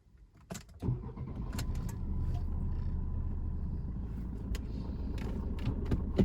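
A 2013-2017 Fiat 500L engine starts with a short crank, then settles into a steady, close idle rumble that continues alone with a few faint clicks.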